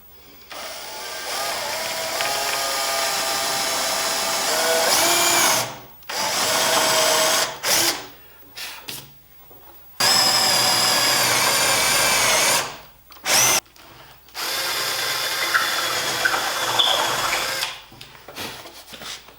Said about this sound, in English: I have one more hole to drill through for this bottom piston here